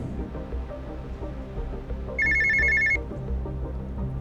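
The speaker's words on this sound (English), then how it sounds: "It's a phone, right?" A telephone rings in an office scene of a legal-drama video game, a single bright electronic ring lasting under a second over a steady music bed.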